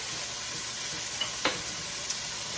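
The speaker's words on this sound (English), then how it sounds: "we're going to move it around so that everything gets in the oil" Pieces of pork tenderloin are stirred and shifted through hot oil, giving a steady close sizzle with a few brief scraping clicks as they move in the pan.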